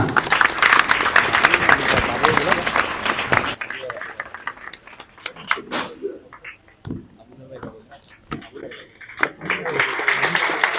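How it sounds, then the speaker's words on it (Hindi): Loud applause from a crowd at a welcome gathering fills the opening seconds, then gives way to scattered claps and talking, with clapping swelling again near the end. "जोरदार तालियां"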